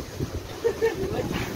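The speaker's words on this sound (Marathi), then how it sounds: "कसला वारा सुटले झाडं किती समजा" Strong wind buffets the microphone outdoors at a hillside temple site, a steady low roaring gust with faint voices mixed in beneath it.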